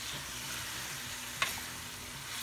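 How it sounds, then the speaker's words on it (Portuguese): Beef liver frying in a pan as it is stirred, with a steady close sizzle and a single brief scrape or clack of the utensil partway through; no talking. "Eu vou dar uma mexidinha agora. Ó, já tá começando a grudar."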